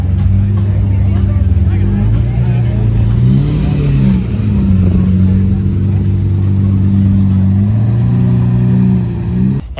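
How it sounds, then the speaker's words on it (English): A Lamborghini Murcielago Roadster, with a Ferrari 458 behind it, drives by in a convoy heading into a car meet in Orange County. The engine drone is loud and steady, rising and shifting pitch as the cars pass, with a talking voice mixed in. "Very cool looking Murcielago Roadster driving by there, 458 behind it, a little group convoy into the meet"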